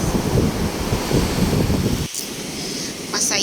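Ocean waves at a seashore beside a cove resort, a broad rushing wash of surf mixed with gusty wind noise on the microphone, steady and close, with a brief lull partway through.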